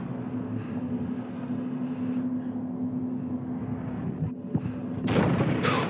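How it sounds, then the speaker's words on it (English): Artillery fire in the side-scrolling video game INSIDE: a sustained low rumbling barrage with a sharp boom near the end, followed by a sudden loud blast that fills the sound. "Just is this artillery?"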